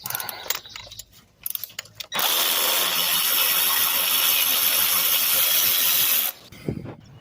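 Socket wrench working a bolt loose on a GM 3100 engine during a power steering pump install, heard as a sustained loud mechanical grinding ratchet for about four seconds after some quieter clanks, then stopping abruptly.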